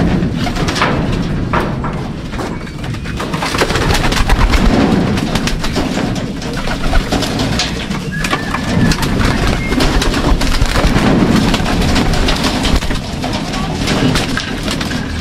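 Racing pigeons in a loft coo and flutter in a busy, continuous bed of bird sound with scattered sharp taps and wing claps, fairly loud and close, with no clear speech.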